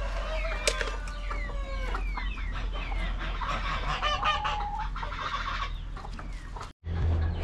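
A flock of chickens with many roosters on a farm fills the air with overlapping crowing and clucking, loud and continuous, broken by a brief dropout near the end.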